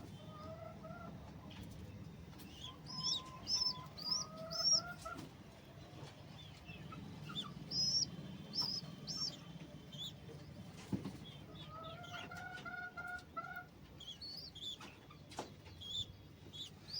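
Chicks and small birds chirp in a backyard bird pen, bursts of high tweets and peeps coming and going over a low murmur, fairly faint and at middle distance, with soft clucking underneath.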